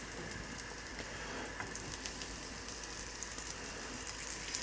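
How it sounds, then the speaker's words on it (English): A breakfast sandwich filling sizzling in residual butter in a pan, a steady close crackling hiss with fine popping throughout, no voices. "You can hear it cooking."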